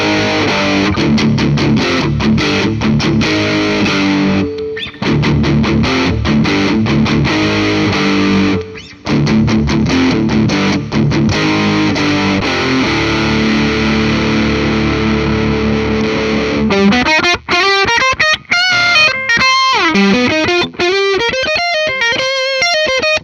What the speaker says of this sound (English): Bridge doesn't sound too bad with distortion.